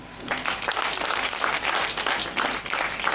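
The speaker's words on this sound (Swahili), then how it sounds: "Kama unanielewa pigia Yesu makofi." A church congregation applauding during a sermon, with dense, steady clapping from many hands that keeps going for several seconds close by.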